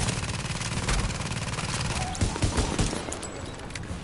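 An automatic turret in The Division fires rapid continuous bursts, a dense rattling stream of shots at close range with a few heavier thumps mixed in.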